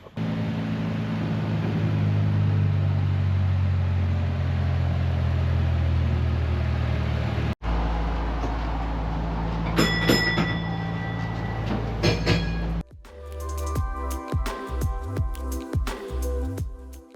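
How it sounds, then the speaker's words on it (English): Low rumbling diesel engine drone of a tram in motion, followed by clattering, rattling and shifting mechanical noises as the ride continues. "the tram isn't actually cable driven, it's retrofitted with a diesel engine"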